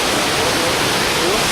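A waterfall roars as a steady, loud broadband rush that fills the whole clip, a dense unbroken wash of falling water close by.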